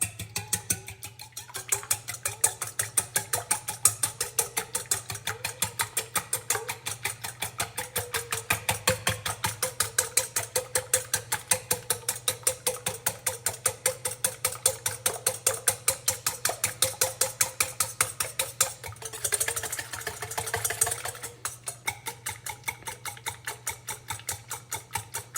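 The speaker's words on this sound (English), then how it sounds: "So I'll mix my eggs first." An electric mixer beats eggs for brownies, a steady rhythmic mechanical whir with a constant low motor hum, running continuously and fairly close.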